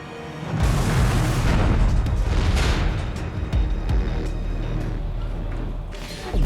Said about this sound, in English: this huge explosion going on behind you